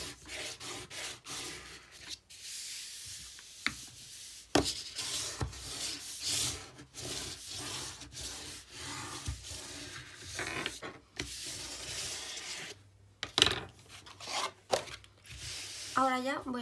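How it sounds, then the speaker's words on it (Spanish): A bone folder presses and rubs across glued paper in a craft project, giving close, uneven scraping and rubbing strokes with brief pauses, while a person talks over parts of it. "Y con la plegadora hago un poquito de presión."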